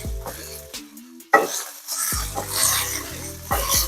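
Kielbasa and potatoes sizzle and splatter loudly in a hot pan, with a steady frying hiss broken by sudden crackles, near and busy, along with a few clinks of a utensil against the pan.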